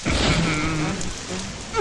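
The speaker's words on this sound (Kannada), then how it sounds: "ಅಯ್ಯೋ, ಮಳೆ ಮಳೆ ಮಳೆ ಮಳೆ." Steady rain pours down at night, a dense, loud hiss that fills the scene, with a brief rising noise near the end and no talking.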